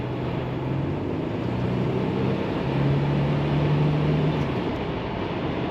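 A 1986 Buick Regal Grand National accelerates under throttle on the road, a steady interior engine drone with a rising tone over constant road and wind noise.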